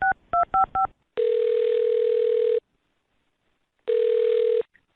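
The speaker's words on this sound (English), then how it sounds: "I'm going to dial her phone number right now." A telephone number is dialed: four quick touch-tone beeps, then two long steady ringback tones separated by silence, clear and close.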